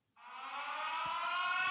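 A yellow-green siren starts up after a brief pause and swells into a steady, loud wailing tone that holds to the end without any talking.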